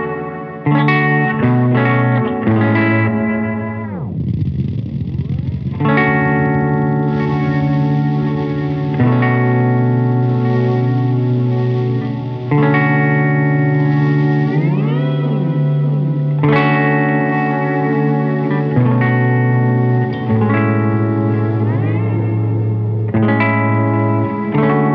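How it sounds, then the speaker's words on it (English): LCO Industries Ours & Hours lo-fi reverb pedal on a sustained guitar-like tone, loud and continuous, with ambient echoes and lingering washed tails swelling behind chord changes and pitch-bending notes, no talking. "to get some of those ambient echoes, you hear that they come in after the fact"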